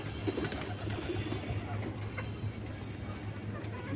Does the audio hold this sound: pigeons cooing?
yes